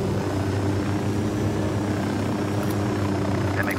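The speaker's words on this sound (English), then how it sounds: "We gotta steal that helicopter." A helicopter in a first-person shooter game gives off a steady, continuous rotor and engine drone that holds at an even level throughout, with no voices over it.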